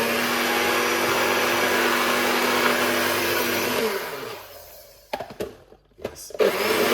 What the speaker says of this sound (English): blend it